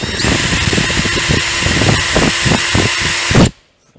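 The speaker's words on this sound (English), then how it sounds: "So I'm just going to drill all these holes to this template." A power drill with a 3.2 mm bit bores holes through a new GBS Zero Gen 2 roof cover, running loud and steady with a rhythmic pulsing grind as each hole goes through, then stopping abruptly.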